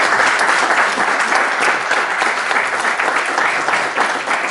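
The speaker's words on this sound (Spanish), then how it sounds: "Un aplauso a Juan Carlos Bachet, por favor." Loud, steady applause from a sizable crowd at a book launch, dense clapping that continues without a break for several seconds.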